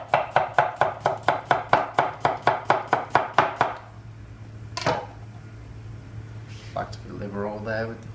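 A knife chops cucumber for a salad on a board in a quick, even run of about fourteen crisp, close taps, then stops, followed by a few scattered kitchen sounds and people talking.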